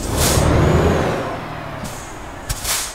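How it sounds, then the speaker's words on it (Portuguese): A Volvo truck in Euro Truck Simulator 2 releases a loud, close air brake hiss over the idling engine rumble, followed by a couple of shorter sharp pneumatic bursts. "esse barulho aqui desse freio a ar é muito show"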